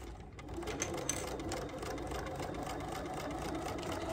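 A sewing machine stitches in a rapid, steady mechanical whir, close up, running continuously with slight changes in pace.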